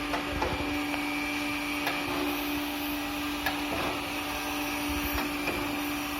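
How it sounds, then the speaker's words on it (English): A surface grinder machines a mild steel block, giving off a steady, fairly quiet mechanical whine and hum. Light ticks and knocks recur every second or so as the machine runs. "Here we are machining mild steel block."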